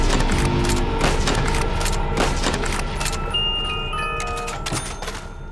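Gunfire in a Black Ops 3 custom zombies map, rapid repeated shots in a dense, continuous burst with sharp cracks, loud and close, fading slightly toward the end.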